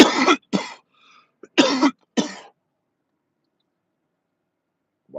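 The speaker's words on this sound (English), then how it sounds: "I cannot stop coughing" A person coughing close up indoors: four harsh, explosive coughs in two quick pairs within about two and a half seconds, then silence.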